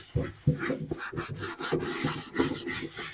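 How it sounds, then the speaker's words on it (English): A wet fingernail brush scrubbing a dirty leather moc toe work boot, quick repeated rough rubbing strokes in an uneven rhythm, close and alone. "scrubbing the boot. I can already see the dirt lifting off of it."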